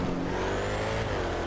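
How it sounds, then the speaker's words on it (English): A video game car engine hums and revs steadily with a rich, throaty drone. It is heard close and alone for a brief stretch, with no talk over it. "I love the way this car sounds."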